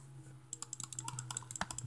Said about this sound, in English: You might hear my mouse clicking too.